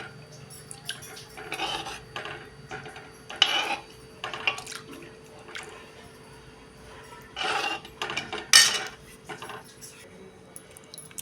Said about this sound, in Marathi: असं करत करत ह्यात सगळं पाणी आपण ह्यामध्ये ओतून घ्यायचं आहे.